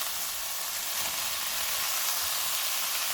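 Onion frying with minced meat in oil, a steady close sizzle with an even, bright hiss that continues unbroken and alone.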